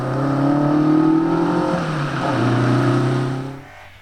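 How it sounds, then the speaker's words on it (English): A rear-wheel-drive BMW Compact rally car engine revs steadily at a classic winter rally stage, droning loud and close with rising and falling pitch before fading away at the end. "Keith Seeger and Mark Runciman guided the unusual BMW Compact to 5th in class."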